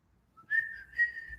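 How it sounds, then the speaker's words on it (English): A person whistles two short, clear, high notes, the second slightly longer, quiet and alone against a near-silent room. "I've also noticed I've lost my ability to whistle lately."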